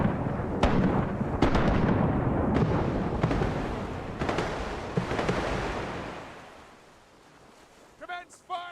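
Cannon volley in the pirate naval game Rise of Piracy: a rolling series of booming shots with rumbling blasts and splashy wash, loud at first then fading, with voices near the end.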